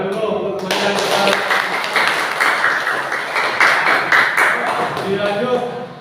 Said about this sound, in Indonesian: tepuk tangan dulu untuk teman-teman